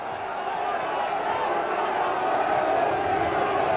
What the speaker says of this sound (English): the whole crowd down in that Turner stand were getting right behind